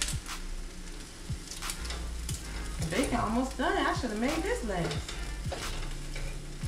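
Bacon and sausage sizzle steadily in a frying pan, with occasional scraping and knocking as the food is turned, while someone talks briefly over the cooking.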